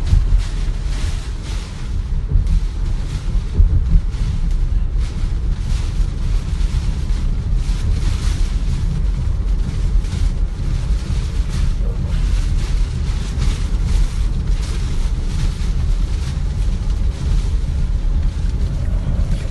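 Hurricane Irma's strong wind in Miami, heard from inside a moving car as a loud, continuous buffeting roar with gusty surges throughout, no voices over it.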